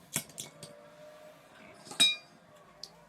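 A small metal screw from a Hornby model locomotive dropped into a dish during gear work, giving a sharp clink near the middle among a few lighter taps and rattles in a quiet room.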